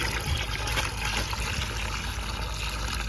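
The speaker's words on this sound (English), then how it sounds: "I'll just keep adding water there." Water from a hose runs into a backyard pool's skimmer line to backfill air in the lines, a steady loud rushing and gurgling fill that continues unbroken throughout, close by and with no speech.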